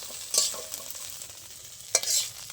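Fresh thankuni (pennywort) leaves are stirred and steamed in a pan, giving soft scraping and rustling with a faint sizzle and two brief louder stirring strokes, close and quiet, no talk.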